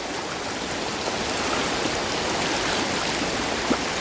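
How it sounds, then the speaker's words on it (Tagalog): Strong sea waves wash onto a beach in Oriental Mindoro, a loud, steady broadband rush of surf and churning water that holds without a break. "Lakas ng alon dito."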